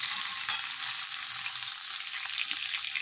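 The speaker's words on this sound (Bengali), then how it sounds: "পেঁয়াজটা একটু লাল লাল করে আগে ভেজে নিই" Chopped onion frying in a pan of oil, with fish cooking nearby, gives a steady close hiss and crackle that runs through the whole stretch without talk.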